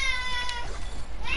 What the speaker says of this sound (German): Achso, das war eine Katze?